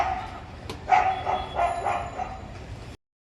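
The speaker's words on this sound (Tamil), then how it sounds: "நாய் கூட சண்டை போட்டுட்ருக்காங்க." A dog barks and yips in a few short, fairly close bursts, some with a whimpering edge, then the sound cuts off abruptly.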